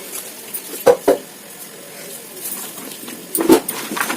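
Rice boiled with salt being stirred and mixed in a pot, a few sharp spoon-on-metal clinks and scrapes in separate bursts, with quieter soft stirring between them.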